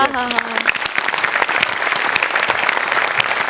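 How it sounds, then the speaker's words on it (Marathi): Dense, steady audience applause fills a Marathi comedy show studio, loud and close from start to finish, with a brief musical tone fading at the very beginning. "एकदा सगळ्यांकरता टाळ्या होऊन जाऊ दे."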